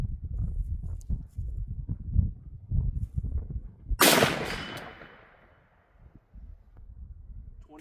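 A single sharp gunshot from a rifle firing a .41 Great Lakes 210-grain solid brass round, a loud crack with a decaying echo, preceded by low murmuring talk and handling noises outdoors.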